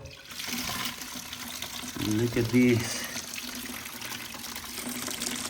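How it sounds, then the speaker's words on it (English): Dirty water carrying stripped floor wax drains away in a steady rushing gurgle that swells briefly in the middle, while a person speaks over it. "because we are about to drop all the dirty water"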